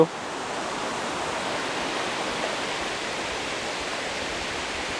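Steady broadband rush of falling water, constant and even throughout, a small forest waterfall heard close by with no other sounds standing out.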